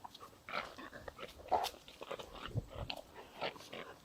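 A dog plays with a raccoon outdoors beside a sawmill, giving scattered bites, scuffles and small yelps at moderate distance, a steady run of short rough bursts with no talk.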